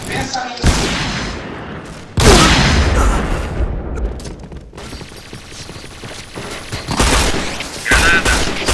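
Rapid bursts of AK rifle gunfire in a video game, loud and dense, with booming impacts layered in and a brief pause near the middle before firing resumes.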